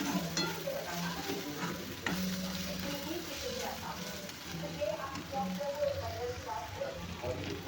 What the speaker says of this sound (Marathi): कांदा पण आपल्या छान बघा गोल्डन भाजत आहे.